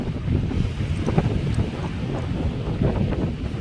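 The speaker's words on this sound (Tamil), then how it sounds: "காற்று வந்து ரொம்பயுமே அதிகமாக இருக்குங்க" Strong wind buffets the microphone at a beach, a steady low roar of gusts that never lets up, with no voices over it.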